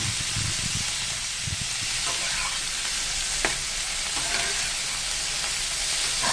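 Potato pieces and bottle gourd stems fry in a pan with salt, a constant close hiss of sizzling oil broken by a few sharp scrapes of a spatula stirring the vegetables.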